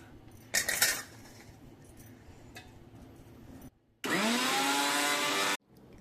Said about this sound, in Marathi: हे आता आपण मिक्सरमध्ये वाटून घेऊया